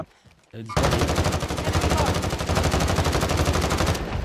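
Unsuppressed AS VAL rifle fire in a video game: a loud, sustained automatic burst of sharp, rapid shots starting abruptly after a quiet moment and running to the end.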